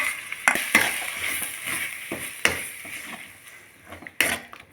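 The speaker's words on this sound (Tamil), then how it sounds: "இப்போது இது எண்ணெய் பிரிஞ்சு வரும் இல்லையா அந்த அளவுக்கு நம்ம வச்சுக்கணும்" Coriander thokku paste, mixed with chili powder paste, fries in oil in a pan. A soft continuous sizzle is broken by several sharp clinks and scrapes of a stirring utensil against the pan, close up and with no talking.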